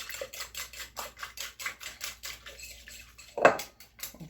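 A utensil mixes zucchini and corn fritter batter in a bowl, making a quick, steady run of soft clinks and wet scraping strokes, close up, followed by one louder knock near the end, with no speech.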